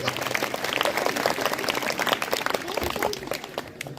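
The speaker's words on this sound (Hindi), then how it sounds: "आप जोरदार तालियों से एक बार पुनः स्वागत करें।" Loud applause and clapping from an audience at a Republic Day 2026 function in Jhothda, dense and sustained throughout, with voices and crowd noise mixed in.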